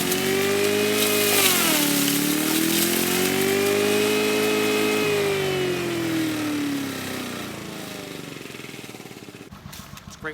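A small 3 horsepower engine-driven compost shredder runs loudly and close, its steady engine drone dipping and rising in pitch as material is fed through, before cutting off abruptly near the end.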